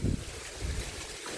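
Blustery wind rumbles against the microphone in low gusts, with a stronger buffet at the start and steady airy noise throughout.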